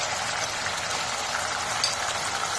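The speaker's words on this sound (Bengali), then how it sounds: "লবণ 1 টেবিল চামচ পরিমাণ দিয়ে আমি এটাকে কষিয়ে দিচ্ছি খুব ভালো করে" Spices with salt sizzle hard in a hot pan for mutton rezala, a dense, steady crackling hiss that fills the space close up and loud from start to finish, with no voices.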